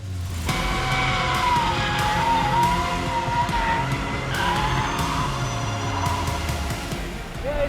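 The electric Renault 5 Turbo 3E concept car drifts with continuous tire squeal and skidding that rises and wavers in pitch, close and loud, with no engine roar beneath it.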